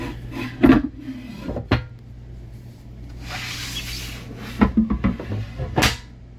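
Large storage drawers in an RV kitchen being pulled open and pushed shut, giving several short sliding, rubbing thumps at a moderate distance with quiet hiss between them and no talk.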